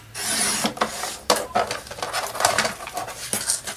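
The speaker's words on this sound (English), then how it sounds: "I'm just going to trim a little bit off" Scissors trim the edge of a paper junk-journaling tag, giving close, dry rasping cuts in irregular bursts with brief pauses between snips.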